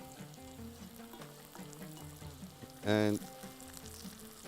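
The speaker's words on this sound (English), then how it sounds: "I'm going to add the black lemon in there" Onions with black lemon frying in a pot for a Bahraini dish, a steady close sizzle throughout, swelling into a brief louder burst of spattering as the lemon goes in, with a single spoken word.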